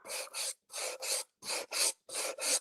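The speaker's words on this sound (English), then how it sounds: "You see what happens when you use a fresh sander." Fresh sandpaper or sander worked by hand across a wooden cigar box: four pairs of rough rasping back-and-forth strokes in an even rhythm, close and clear, with brief gaps between pairs and no voices.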